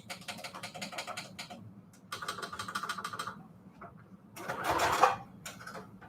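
A sewing machine stitches fabric onto manila tags on a straight-stitch setting, running in three loud bursts of rapid mechanical chatter separated by short pauses, with a final heavier whirring stretch.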